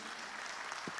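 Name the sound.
audience applause for the speaker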